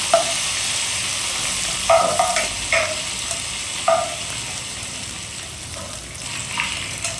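A pan sizzles as something is fried over high heat and stirred for a fish curry, with a constant frying hiss and a few scraping clinks of the spoon. The cooking sounds are close and carry no talk.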